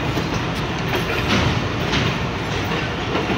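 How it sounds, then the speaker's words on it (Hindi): The Shalimar Express passenger train in Pakistan, hauled by a GEU 40 locomotive, rumbles loudly past nearby, with a dense steady roar and clattering wheels on the rails. "अपने वक्त की बड़ी कमाल की ट्रेन है ये।"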